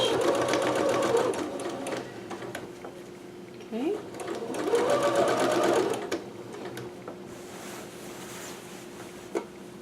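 A sewing machine back stitching seams on a McCalls 6701 dress runs in close, loud bursts of rapid mechanical whirring, pausing briefly between runs, with a voice talking over parts of it.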